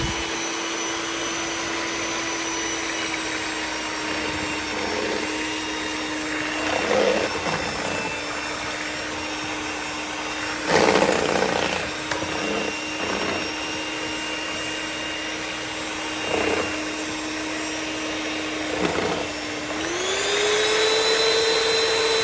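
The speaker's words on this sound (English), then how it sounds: "so now we're going to go ahead and start mixing. Start at medium high." An electric mixer whirring steadily at medium-high speed while churning a Guinness stout ice cream base, a loud continuous motor drone with occasional clunks and knocks, rising in pitch as the speed is raised near the end.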